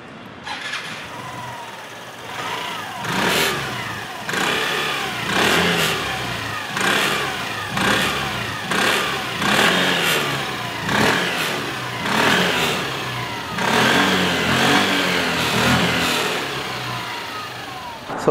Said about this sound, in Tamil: ஸோ நீங்களுமே கேளுங்களேன் அந்த எக்ஸாஸ்ட் பீட்டை.